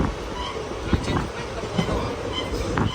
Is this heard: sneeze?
no